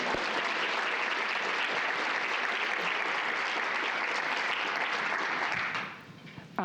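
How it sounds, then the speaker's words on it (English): A conference audience applauds in a steady, dense wash of clapping that holds for several seconds, then tapers off near the end. "give another round of applause to Melissa, Robert, to all of the other parents that made this happen today"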